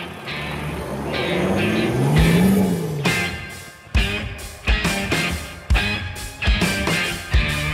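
A 2018 Mercedes-Benz GLS drives through loose desert sand dunes near Dubai, its engine droning and straining, then revving in repeated surges as the tires churn, heard close and loud.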